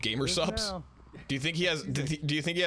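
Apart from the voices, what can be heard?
No everyday noise stands out behind the speech.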